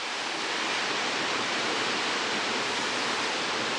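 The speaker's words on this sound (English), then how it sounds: "this other little waterfalls and stuff" A waterfall in Shimoda, Japan, a constant broadband rush of falling water, loud and unbroken throughout, with no voices.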